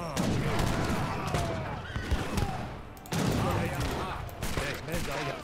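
Rapid volleys of musket and gunfire from soldiers in the strategy game Age of Empires 3, dense overlapping shots crackling continuously with brief dips, mixed with battle noise.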